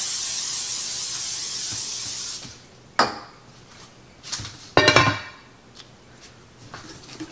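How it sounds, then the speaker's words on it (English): A steady hiss of olive oil cooking spray coating a 9x13 pan runs for a couple of seconds, then stops, followed by a few clattering knocks and scrapes of the pan on a counter. "I'm going to spray my 9x13 with just some olive oil spray."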